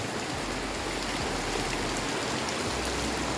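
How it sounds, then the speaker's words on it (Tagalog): Heavy rain pours down steadily, a dense, loud, unbroken hiss with no voices or pauses. "Sobrang lakas ng ulan"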